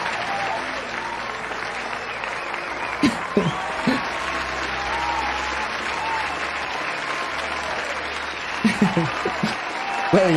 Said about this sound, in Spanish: Un fuerte aplauso para Crowley.